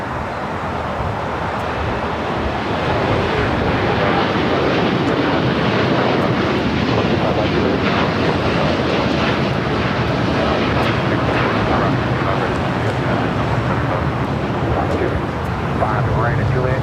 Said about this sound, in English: That was United Airlines Flight 39 heading to Tokyo Haneda in the 787-10